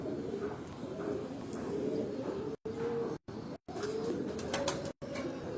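Pigeons with black beaks and yellow eyes, high-flying racing birds, coo in low, repeated rolling calls close by, with someone talking over them and several short cuts of silence interrupting.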